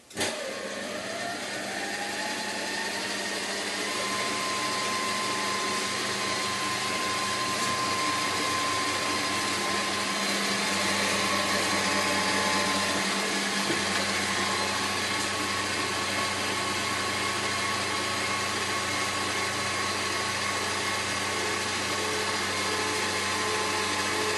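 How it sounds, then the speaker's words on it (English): A steady, loud electric mixer whisks egg whites continuously, its motor drone holding a constant pitch with slight fluctuations throughout. "we're going to add it to the egg whites while it's still whisking"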